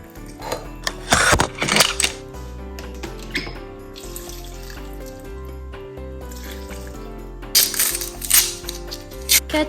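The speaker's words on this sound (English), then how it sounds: "Then press it and pour the juice into the blender." A halved orange pressed for juice, with background music throughout: two bursts of squishing and dripping liquid, one early and one near the end, separated by quieter handling.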